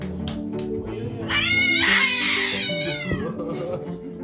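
A cat meows beside a crawling baby out near a road curb, one drawn-out cry rising in the middle over voices talking in the background.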